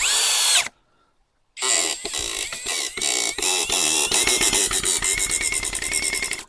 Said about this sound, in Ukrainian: Пробуємо 125-й сюди закрутити.